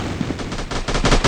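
Video game gunfire in a team shooter, rapid bursts of loud shots rattling continuously and growing denser toward the end.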